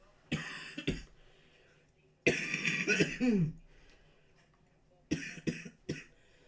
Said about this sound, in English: my cough's getting better, but like it's still annoying